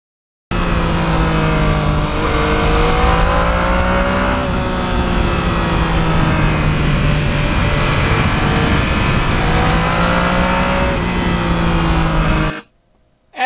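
A Yamaha MT-09 motorcycle with custom parts and carbon fiber runs continuously while riding, a loud steady engine drone with rising and falling pitch as it shifts, close and alone, ending abruptly.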